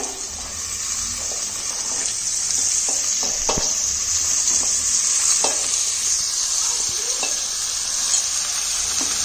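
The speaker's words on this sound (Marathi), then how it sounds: "गरे परतून घेते व्यवस्थित" Jackfruit pieces are stir-fried for a Konkan-style jackfruit vegetable dish, making a loud, constant hissing sizzle with scattered clinks and scrapes of the stirring spoon close by. No one speaks.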